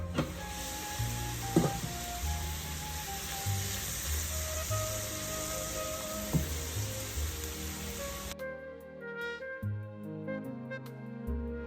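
Vegetables sweat in a pot as the base for New England clam chowder, giving a steady, close sizzle with faint stirring. Partway through it cuts to a quieter, tonal background with no talk.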